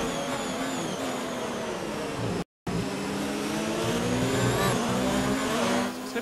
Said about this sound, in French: la réaccélération de la Haas, là très violente